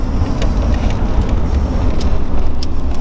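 Road traffic passes on a street in Zanesville, Ohio: a fairly loud, continuous rumble of cars going by, with a few brief rattles and no speech.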